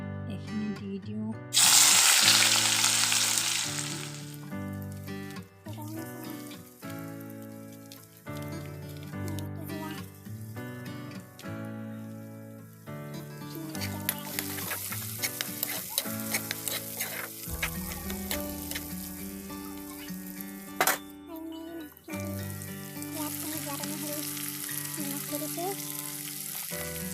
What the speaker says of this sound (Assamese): এইকেইটা এতিয়া কেৰাহী গৰম হৈ আছে, এতিয়া মই এইখিনি দি দিওঁ